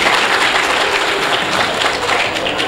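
An audience at a university ceremony applauds students with dense, loud, sustained clapping from a crowd throughout.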